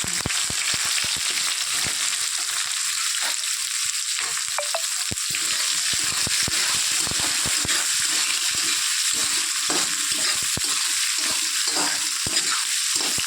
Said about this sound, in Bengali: পেঁয়াজটা দিয়ে আমি একটু লাল লাল করে ভেজে নিয়ে নিচ্ছি